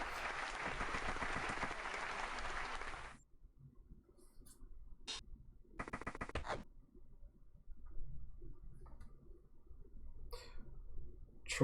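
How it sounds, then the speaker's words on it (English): Applause from a crowd for a play in an online NBFL AFC Championship football game between Miami and Houston, loud and steady for about three seconds and then cutting off, followed by quiet room noise with a few soft clicks. "So that deserves a little clap."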